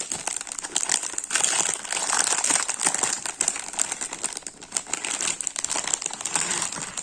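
Plastic packaging of a Pikachu keychain embroidery kit is opened, giving loud, continuous crinkling and rustling close up, with no pauses.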